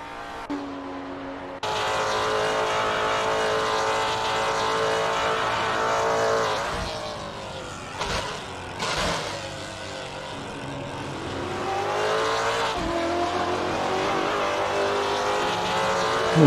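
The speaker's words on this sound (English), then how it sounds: "There's Oliphant really trying to make a move on Langevaart." Simulated GT4 race cars at Interlagos in a sim racing series, engines droning and revving loudly with gear changes and passing cars, a continuous racing roar that briefly drops and surges.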